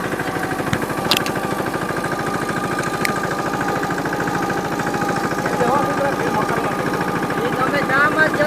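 A tractor engine runs steadily nearby with a rapid, even mechanical thrum, fairly loud and constant, while people talk over it in a village setting.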